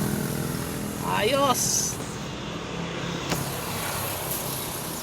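A second-generation Honda CR-V engine held at 5,000 RPM, a quiet steady hum under a man's speech, with a short rising whine near the start.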